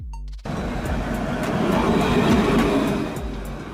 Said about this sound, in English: Tram train.